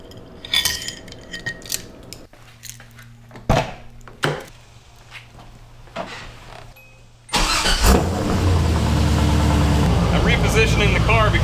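A car is being repositioned during a steering wheel and quick release kit install: scattered clunks and movement are followed by the engine starting up and running steadily, loud and close.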